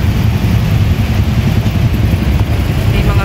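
Motorcycle engines on a busy Manila street in BGC, a steady low rumble of traffic close by, continuous and fairly loud throughout with a faint voice mixed in.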